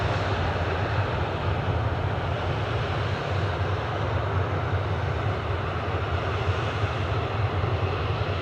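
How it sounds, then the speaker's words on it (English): Aircraft engine at Newcastle airport, a steady broadband roar and hum lasting throughout, fairly loud and continuous with no voices. "Just letting a small light aircraft clear."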